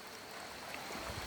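A jungle river rushes over stones with a steady, broad, hissing wash of water that stays even throughout and carries no voices.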